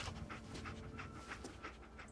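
The dog companion in Fallout 4 pants quickly and steadily, a rhythmic breathy huffing repeated about twice a second, faint and alone.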